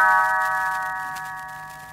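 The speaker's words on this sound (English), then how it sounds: "You will know it is time to turn the page when Tinkerbell rings her little bells like this." A single chime of small bells, a read-along page-turn cue, rings out clearly and then fades away slowly over two seconds.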